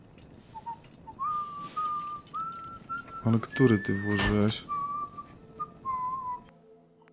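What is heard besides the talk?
whistling by Codsworth in video game Fallout 4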